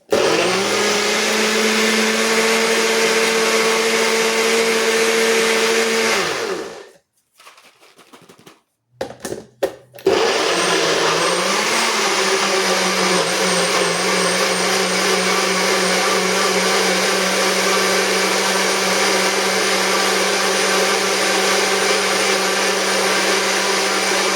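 A bullet blender whirs loudly as it purees peach, mango, apple and ginger with a little water, running steadily, cutting out for a few seconds with brief clatters, then roaring back on and holding.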